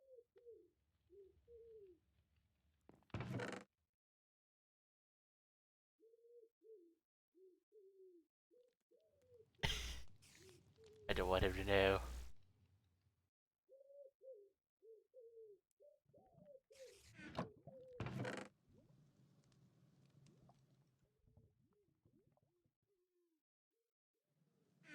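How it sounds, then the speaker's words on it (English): Pigeons coo in soft, repeated low phrases, faint and fairly near, with a few sharp knocks and bursts of noise in between and a brief spoken line. "I gotta sleep with these pigeons like cooing"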